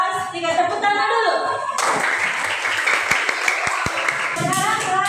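Third-grade pupils in a classroom break into enthusiastic applause, a dense burst of many hands clapping close by for a few seconds, with a teacher talking before and after it.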